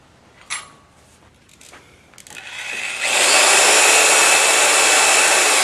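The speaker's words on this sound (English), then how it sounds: "And you can turn the vacuum on." Shop vacuum switched on while sanding a three-winged wooden bowl at a woodturning lathe: a few faint knocks, then the vacuum roars up to a loud, steady broadband rush that continues to the end.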